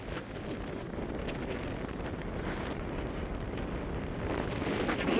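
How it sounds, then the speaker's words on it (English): Steady wind gusts roar across the microphone aboard a Pearson 424 ketch sailing on open water, a dense continuous rumble that swells slightly toward the end with no voices. "It looks like we just got a little gust right there and the wind shifted a little bit. Wind's blowing."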